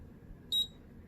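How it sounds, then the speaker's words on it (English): One short, high electronic beep from a WRMK Colop e-mark create handheld printer sounds clearly against a quiet background hum. "When you hear the beep, you move it down."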